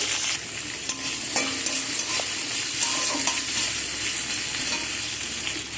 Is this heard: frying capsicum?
yes